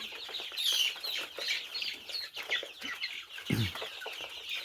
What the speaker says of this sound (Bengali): 4টি ভ্যাকসিন করা মিশরীয় ফার্মি মুরগি।